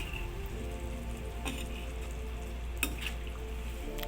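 Fish curry being stirred in a frying pan, a steady soft sizzle with a few scraping strokes of the spoon against the pan, close and continuous.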